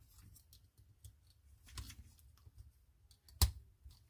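Plastic Transformers Animated Soundwave toy figure being folded and swiveled by hand, with faint soft clicks and creaks, then one sharp louder click near the end, all close and quiet.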